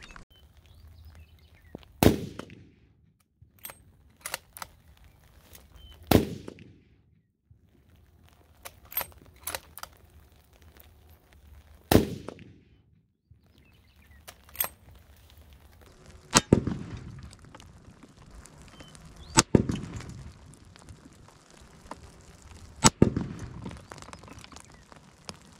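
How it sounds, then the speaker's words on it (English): Rifle shots from a 7mm PRC fired prone, several sharp loud cracks spaced a few seconds apart, each with a short ringing decay, and quiet handling noise between them. "to give this bullet all the chance it can, I'm gonna shoot prone"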